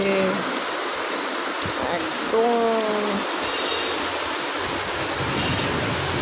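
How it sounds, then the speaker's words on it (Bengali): Heavy rain pours down outdoors in a steady, loud roaring wash, with a person speaking briefly over it. "প্রচুর বৃষ্টি হচ্ছে"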